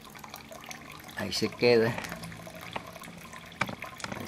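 An aquarium filter's water jet splashing into a fish tank, a steady trickling rush that swells louder for a moment as the flow is turned up, with someone speaking over it.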